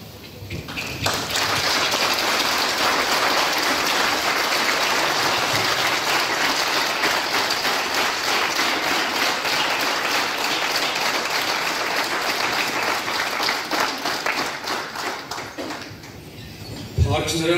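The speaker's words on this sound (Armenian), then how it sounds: "Եվ այնքան բարձր ծափահարենք, որ մեր ծափողջությունները հաղթանակի թմբուկի պես հասնեն երկինք" A large crowd applauding loudly and continuously at an Armenian memorial gathering, dense clapping swelling in quickly and holding steady for over fifteen seconds before fading, with a voice speaking over it.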